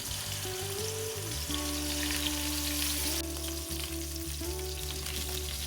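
Lamb chops fry in a pan with vegetable oil, giving a continuous close sizzle alongside a steady low hum and a faint tonal whine from the kitchen.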